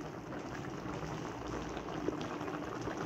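A pot of pochero stew bubbles at a steady rolling boil, a continuous soft gurgling and popping with no voices.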